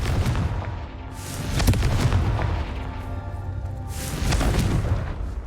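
A blasting spell explodes in Hogwarts Legacy, several booming bursts with rumbling, crackling decay, loud and close, rising again near the end.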